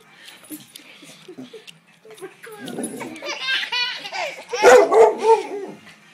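A Clumber spaniel jumps and barks a few times nearby while a baby laughs loudly and hysterically; the barking and giggles overlap in short bursts.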